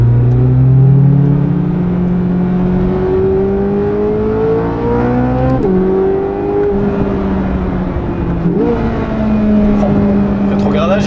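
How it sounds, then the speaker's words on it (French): A Corvette C8 Z06 with a naturally aspirated V8 revs loud and close, its engine note climbing steadily, with sharp throttle blips on two downshifts before it pulls again. "on va jouer un petit peu de V8 Atmo là"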